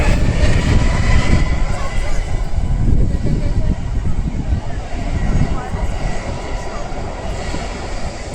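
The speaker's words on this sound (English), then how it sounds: "It's a 767, that one. Cargo. UPS." A UPS Boeing 767 cargo airplane near Seattle gives off a loud, sustained engine roar that swells and slowly fades over several seconds.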